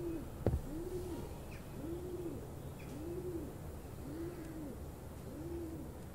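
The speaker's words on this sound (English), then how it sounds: "That pigeon is all intense." A pigeon in the Summer of '58 horror video game coos in a slow, regular series of low, rounded calls against a quiet hissing background, with one brief sharp knock near the start.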